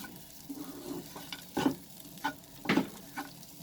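Sooji upma with peanuts stirred in a hot pan, the spoon scraping and thudding in a few loose strokes over a soft sizzle, close up and with no talking.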